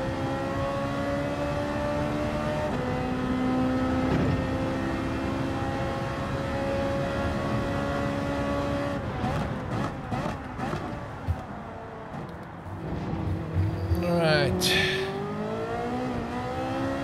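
Race cars driving on a track in a video game, engines droning steadily with harmonic revving and shifting pitch, then a busier stretch of rising and falling engine tones and clatter near the end.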